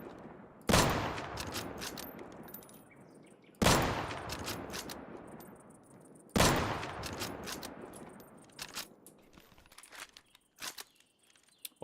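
Gunshots ring out in the survival shooter Deadside while an enemy is picked off at range: three loud, sharp blasts a few seconds apart, each trailing a long echoing decay, followed by softer scattered clicks and footsteps.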